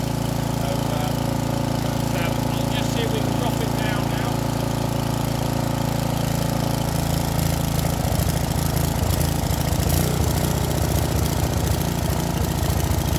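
A small petrol scarifier engine idles loudly and steadily on choke, its rumble growing rougher and more knocking partway through, with someone speaking briefly over it.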